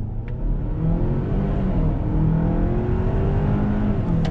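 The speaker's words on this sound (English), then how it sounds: "I'm gonna do a little on-throttle acceleration." A 2021 Kia Sorento X-Line with a turbocharged engine and dual-clutch transmission accelerates on throttle, a steady, loud engine drone that slowly rises in pitch, heard from inside the cabin with no voices.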